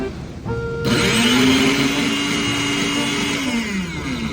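A powerful Mikata heavy-duty blender whirs loudly while crushing ice, kicking in after a brief moment and holding a high, steady motor whine with a slight pitch dip near the end.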